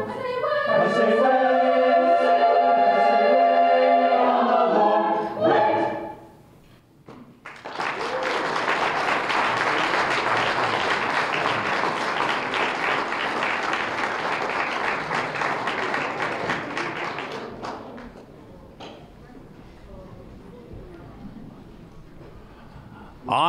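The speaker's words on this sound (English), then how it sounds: "one more big round of applause, huh?" Sustained applause from an audience at an awards gala follows a high school choir's closing sung note, clapping filling the room for about ten seconds before tapering off into faint chatter.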